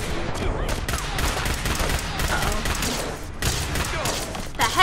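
Rapid gunfire from an enemy's gun in Fallout 4, heard as dense bursts of sharp shots that crackle on and off throughout and stay loud and close.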